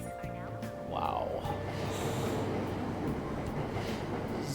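Subway train in Persona 5 Royal at Aoyama-Itchome station, with a loud, steady rumble of rolling wheels and carriage noise building after a short tonal intro, with voices faintly present.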